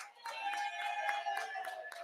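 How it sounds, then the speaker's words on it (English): An audience in a restaurant setting claps in a brief burst of rapid, overlapping hand claps, moderately faint and steady for about two seconds. "A round of applause for Sabrina."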